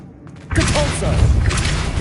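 In Hogwarts Legacy, a Depulso spell fires after a short quiet moment, releasing a sudden loud whooshing blast with rumbling, crackling magical energy that lasts to the end, and a voice is heard just before it.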